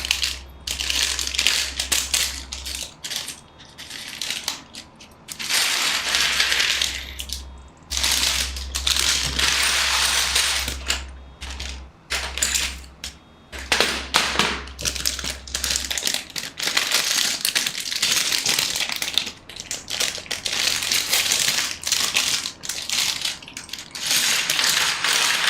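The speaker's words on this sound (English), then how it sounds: "Who doesn't love the sound of Lego tipping out?" Loose Lego pieces tip out of a container in a long, dense clatter and rattle. The plastic bricks tumble and scatter in waves up close, with a low hum underneath.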